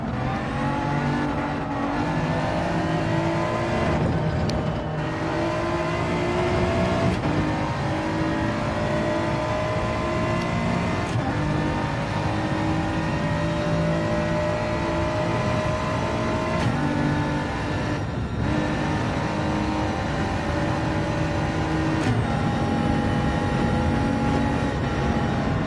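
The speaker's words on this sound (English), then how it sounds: "Oh, so Mini's managed to get past Shrukin there." Race cars in an endurance race accelerating hard along a track, engines revving high and continuous, loud and close, with pitch climbing through gear changes across the whole stretch.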